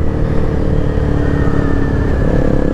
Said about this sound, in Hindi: और मैं उनको एग्जॉस्ट का साउंड सुना रहा हूँ।